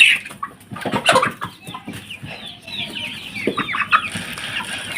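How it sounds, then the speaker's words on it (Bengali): Farmyard chickens cluck busily while being fed, a close, continuous flurry of clucks and short squawks with scratching and shuffling underneath, no speech. "আপনি মুরগিকে কি খাওয়ান?"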